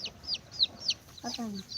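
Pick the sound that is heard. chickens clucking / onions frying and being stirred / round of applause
chickens clucking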